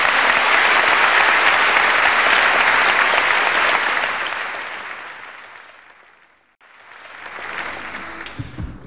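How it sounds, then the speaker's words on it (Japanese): A 1976 concert audience applauds the band in a loud, dense roar of clapping that fades down to near silence, then a fresh burst rises again at a moderate level before trailing off. "もう一度全員に拍手をお願いします。"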